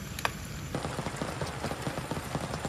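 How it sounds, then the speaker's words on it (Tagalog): Heavy rain drums on a camping awning at a riverside rock campsite in Zambales, a dense steady patter with scattered heavier drops throughout, close and continuous with no talk. "Hapunan sa napakalakas na ulan."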